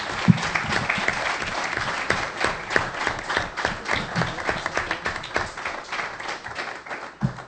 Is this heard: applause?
yes